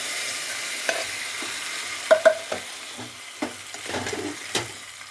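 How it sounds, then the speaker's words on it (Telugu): Tempering seeds frying in oil for gongura dal give a continuous close sizzle, with scattered crackles and several sharp pops and spoon clinks against the pan, and no voices. "ఇవన్నీ తాలింపు గింజలు ఇవన్నీ వేసుకున్నామండి. వేగాలి. వేగిందండి."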